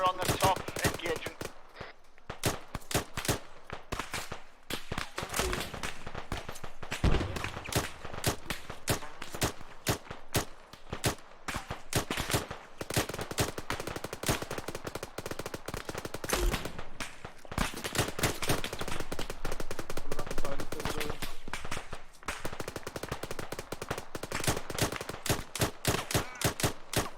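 Sustained bursts of machine gun fire from a gunner mounted on top of a vehicle during a military training exercise, loud and close, rapid repeated volleys with brief pauses throughout, with occasional voices under the firing.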